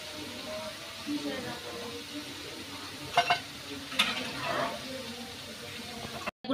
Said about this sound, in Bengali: এবার পরের যেগুলো আছে আমি সেগুলো ভেজে নেব